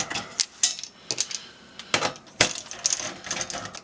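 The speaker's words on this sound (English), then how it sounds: "First, we'll remove the 5 or 6 screws which hold on the back cover." Sharp metallic clicks and clacks from a 7/32 inch nut driver backing out screws on the back cover of an 84-89 Corvette gauge cluster, irregular close taps with short pauses between.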